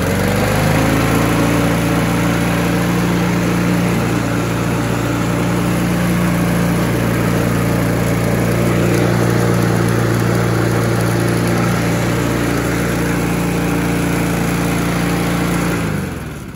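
A used lawn mower engine runs at high idle, a loud close steady drone with a hum that holds evenly throughout and only begins to fade at the very end.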